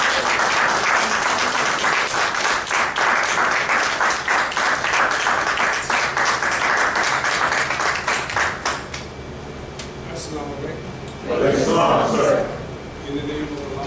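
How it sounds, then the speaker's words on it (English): Loud crowd applause fills a mosque hall as a student minister, Willie Muhammad, is brought up, steady and dense for about nine seconds, then dropping to scattered claps and murmuring before a brief renewed burst. "Bring him over, round of applause."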